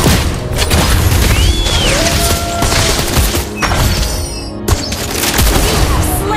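Rapid bursts of gunfire from Clint in the mobile game Mobile Legends, loud and dense with booming impacts and mechanical clatter, running continuously with game effects layered on top.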